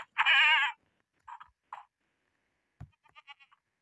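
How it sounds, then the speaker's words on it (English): Goat bleating close by, one long loud wavering bleat followed by a few shorter, fainter calls with brief silences between them. "Oh my, a goat! A goat!"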